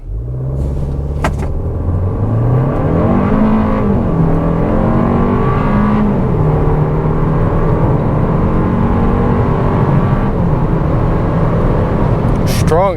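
A 2026 Kia K4 hatchback with a 2-liter inline four-cylinder accelerating hard from 0 to 60 after a brake boost, engine rising in pitch through several gear shifts as a loud, continuous in-cabin drone, with a voice faintly present.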